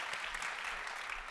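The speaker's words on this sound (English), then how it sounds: "Round of applause for Michael." An audience at a virtual reality panel during a tech keynote conference applauds steadily, a dense, even wash of clapping throughout.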